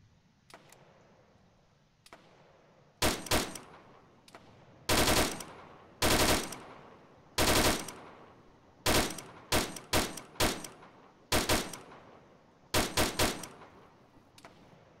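Gunfire in the Arma 3 military video game during a town-clearing operation, a series of sharp single shots and short bursts spaced irregularly, loud and close against a quiet background.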